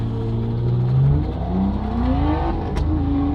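A drift car engine revs hard and close with turbo lag, pitch climbing in rising sweeps over a rough exhaust rumble, loud and alone.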